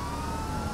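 Police car siren in the video game GTA 5, a steady high wailing tone holding across the short moment with a constant dense rumble of game noise beneath it.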